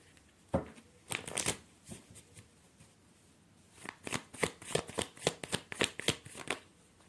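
A deck of tarot cards is shuffled in a run of quick riffling bursts, one short flurry near the start, then a steadier series of crisp rhythmic shuffles, close and clear with no talking.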